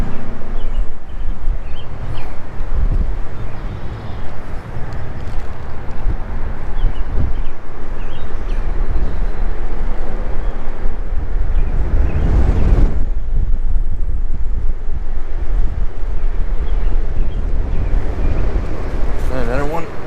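Strong gusting wind roars steadily across the microphone while fishing from a shore in a storm, a heavy low rumble filling the whole stretch, with a louder gust surge near the middle.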